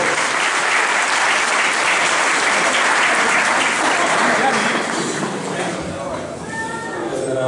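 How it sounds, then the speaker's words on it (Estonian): An audience applauds the class-winning crew at a folk rally awards ceremony in Rapla, a steady dense clatter of clapping that holds loud throughout and eases slightly near the end, with some voices mixed in. "Martin Juhe, Kai Juhe, aplaus!"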